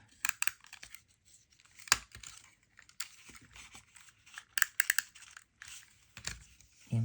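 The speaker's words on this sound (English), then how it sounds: "So we'll add in our tape." Adhesive tape pulled and torn off its roll during paper box card assembly, a few short crackly rips and crinkles close by, with quiet handling noises in between.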